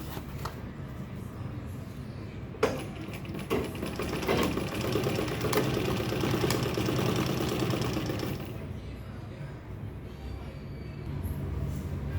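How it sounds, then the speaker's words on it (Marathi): Sewing machine stitching seams on a fabric handbag, running in a steady mechanical whirr for most of the clip, growing louder in the middle and easing off near the end. "सरळ बाजू आणि ही उलट बाजू ठेवून स्टिच करून घ्यायचं वरच्या बाजूने."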